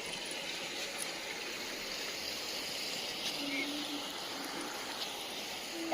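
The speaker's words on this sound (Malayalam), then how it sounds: "ഇതാ ഇപ്പം തന്നെ നല്ല പുഴയുടെ ഒച്ചയൊക്കെ ഉണ്ട്" A river flows close to a house at the edge of a forest, making a steady, broad rushing wash at moderate level that continues without pause for the whole stretch.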